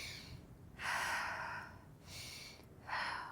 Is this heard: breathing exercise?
yes